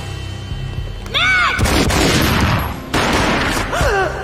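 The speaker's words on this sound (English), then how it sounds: "A gunshot boomed and she fell down in slow motion." Gunfire in the video game Max Payne, two heavy booming shots about a second apart, each a loud broadband blast with a trailing rumble, amid game effects.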